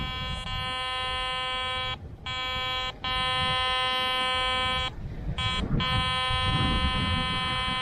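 Steady electronic pinpoint tone from a Kellyco Striker Z60 metal detector held over a buried target outdoors, a continuous buzzy whine with a few brief dropouts, loud and close over rustling background.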